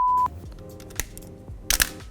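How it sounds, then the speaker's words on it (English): Nikon F3 film camera firing its shutter and advancing film: a tone at the start, then a few sharp mechanical clicks and a short whirring burst of winding, close and crisp, with no voices. "this is what happens inside the camera when you wind the film and start pressing the shutter button"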